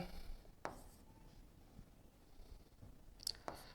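Chalk or marker numbers go onto a board during a math lesson in a quiet room: a few scattered taps and short scratchy strokes, faint and spaced apart, with no talking.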